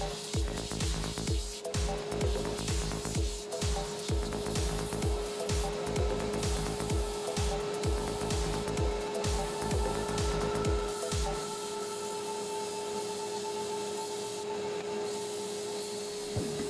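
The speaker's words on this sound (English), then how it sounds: "Then take the box over to the sander to refine the cuts you just made." Machine sander smoothing the sawn cuts on a wooden bandsaw box, a steady loud motor whine with rhythmic rubbing strokes of wood against the abrasive for about eleven seconds, then the motor keeps running alone.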